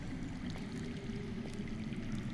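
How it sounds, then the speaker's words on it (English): Faint running water flows somewhere underground in the Game of Thrones video game, a steady low rushing trickle under a quiet ambient bed, continuous with no talk. "That's water. I hear water. From underground."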